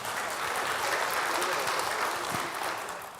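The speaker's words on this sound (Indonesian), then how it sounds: "Ya tepuk tangan dulu lah buat Metro TV." Studio audience applause during an Indonesian television economics talk show, a soft, even patter of clapping at modest volume that fades slightly toward the end.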